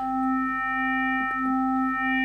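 Korg opsix synthesizer holding a steady bass tone as its harmonics are turned up, a sustained pure-sounding note with bright overtones layered above it, plus a few faint clicks, heard alone.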